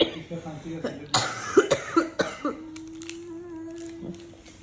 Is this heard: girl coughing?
yes